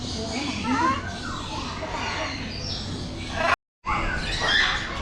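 Birds squawk and chirp in a bird park at Kelaniya Water World, over a background of voices and a brief dropout.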